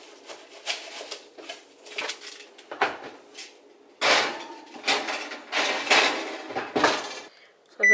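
Seasoned salmon goes into a home kitchen oven with a clatter of a baking tray, oven door and rack, irregular knocks and scrapes at close range.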